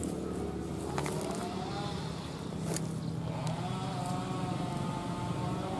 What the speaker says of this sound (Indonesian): Karena suara gergaji mesin.